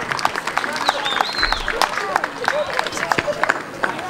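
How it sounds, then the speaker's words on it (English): An audience claps at a youth under-17 match ceremony for the Accorsi Cup, a loose scatter of hand claps spread across a few seconds with a murmur of crowd voices underneath. "Please give yourselves a huge round of applause."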